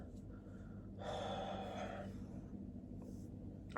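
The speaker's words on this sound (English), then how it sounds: "Why am I yawning so much?" One person yawns once, quietly and close, a drawn-out breathy exhalation lasting about a second over a low steady room hum.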